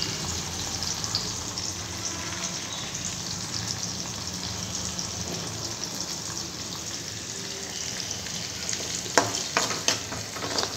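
Onions and curry leaves frying in a pan, giving a loud, dense, continuous sizzle close by, with a few brief stirring clicks near the end.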